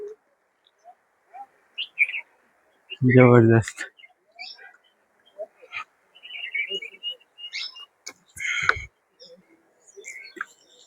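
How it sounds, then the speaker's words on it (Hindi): Scattered bird chirps and tweets near the Ajanta caves in Aurangabad, short sparse calls in a quiet setting, with a brief spoken exclamation and a few other sharp noises between them. "सब तरफ चिड़िया का चहचहाट"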